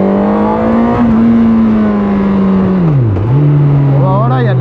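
A Honda CB1000R motorcycle engine drones loudly and steadily at close range, then its pitch dips and rises again as the throttle changes.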